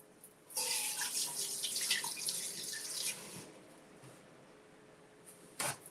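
A kitchen tap runs hard onto hands being washed, a bright splashing rush for a few seconds that then quiets to a softer trickle, with a brief clatter near the end.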